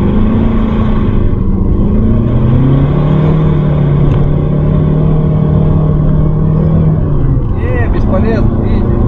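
VAZ 2110 Lada car engine revving hard as it pulls away with a slipping clutch, a steady loud droning roar that holds then shifts pitch near the end, with people talking over it.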